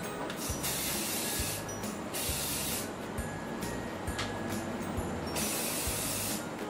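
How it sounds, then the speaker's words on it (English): Hairspray hisses in a steady stream of close, bright bursts with short pauses between, the whoosh filling the air almost continuously. "I'm just gonna spray a little bit."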